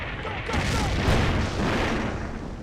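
An artillery barrage roars in the World War II video game Combat Mission: Beyond Overlord, with heavy overlapping booms rumbling loud and continuous through the whole stretch, dense and washed together, with no separate blasts.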